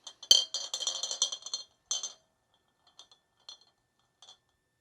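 Small steel balls from a Porsche 911 CV axle joint clink and roll against metal, a busy rattling burst followed by a few sparse, faint clicks.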